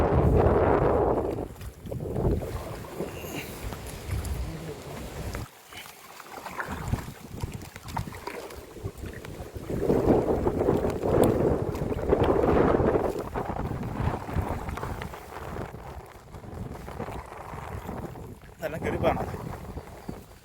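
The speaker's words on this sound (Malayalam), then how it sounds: "അത്യാവശ്യം നല്ല കാറ്റാണ്" Strong wind at Idukki Dam, Kerala, buffets the microphone in gusty surges, rumbling and roaring, with a voice talking over it at times.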